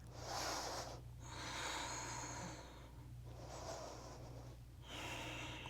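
Slow, steady breathing held through a yoga pose, long audible inhales and exhales in an even cycle, close and soft against a faint hum.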